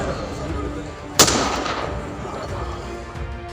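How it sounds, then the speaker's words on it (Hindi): Police honour guard firing a gun salute at a state funeral: a single sharp, loud rifle report cracks out over low crowd murmur and background noise, then fades. "राजकीय सम्मान में चलनी थी 10 गोलियां, पर प्लेबैक में चली सिर्फ 4।"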